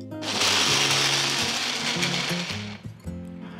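A kitchen mixer grinder whirs loudly, grinding soaked grain with a spoonful of curd into a fine dosa-style batter, a steady high motor roar that drops and changes pitch near the end.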